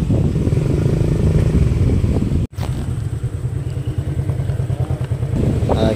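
Motorcycles idle and rumble at a resort gate in Bohol while being moved aside to park, a close, steady engine throb with clattering pulses, briefly cut out for a moment midway before the idling resumes.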